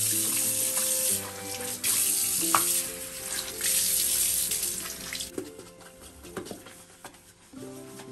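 Tap water runs steadily into a sink while a homemade anti-limescale detergent is being prepared, a continuous close splashing hiss with small surges and dips and no talking.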